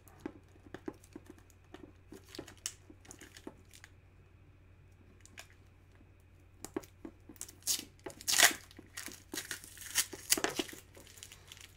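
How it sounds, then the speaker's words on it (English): Packaging tape torn and peeled off a package holding taped-together autographed full-size bats, a close series of sharp rips and crinkles that grows louder and busier toward the end. "It's a lot of packaging tape"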